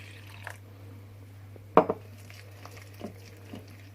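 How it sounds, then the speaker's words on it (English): A spoon stirs thick gram-flour onion bhaji batter in a bowl, giving a few faint scrapes and one sharper clink against the side over a low steady hum. "I'm just stirring it until I get to the right consistency."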